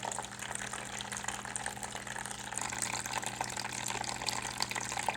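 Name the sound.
running water flowing in pumped stream diorama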